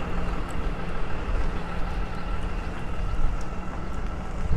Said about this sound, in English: We got a lot of traffic out here.